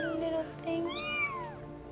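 Several kittens under three weeks old, found dumped beside a busy road, give high, thin meows that overlap and repeat through the moment, heard close up with no talking.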